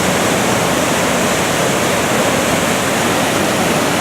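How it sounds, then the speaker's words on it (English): The Fuji River in Japan rushes through a channel and over falls, a loud, dense and unbroken roar of water heard up close with no other sounds. "Look at that water flowing through there."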